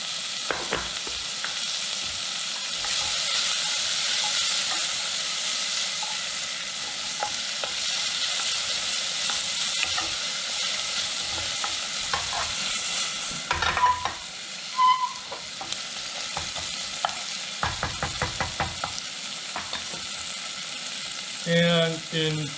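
Onions sizzle steadily in a pan with salt and pepper as the base for a curried lentil, tomato and coconut soup, a close, constant hiss broken by scraping and clinking stirring strokes toward the end.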